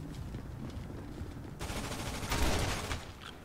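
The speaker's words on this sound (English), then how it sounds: "This nigga just shot me." Gunfire from a shooter video game, a dense burst of rapid shots swelling to a loud peak mid-clip then easing off, with no talking.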